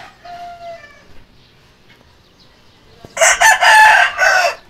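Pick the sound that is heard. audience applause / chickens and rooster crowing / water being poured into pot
chickens and rooster crowing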